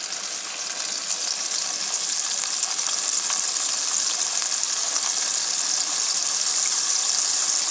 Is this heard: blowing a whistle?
no